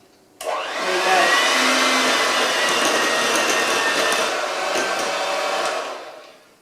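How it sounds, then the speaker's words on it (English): Electric whisk mixing cake batter in a home kitchen, a loud steady high whirring drone that starts abruptly, runs for several seconds and trails off, close and alone. "And now all I've got to do is whisk it."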